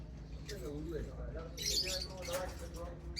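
Yellow ringneck parakeets, breeding birds, chirp and tweet in short, scattered calls over a low background hum, fairly faint, with a voice speaking partly underneath.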